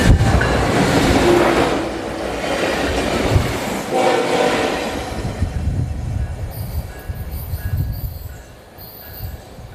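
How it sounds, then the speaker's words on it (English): A train rumbles past close by, wheels clattering and squealing on the rails, a loud continuous roar that gradually fades, heard during an outdoor eagle-watching live stream. "Okay, that was the train."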